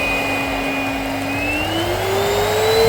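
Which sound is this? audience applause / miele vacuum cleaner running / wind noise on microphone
miele vacuum cleaner running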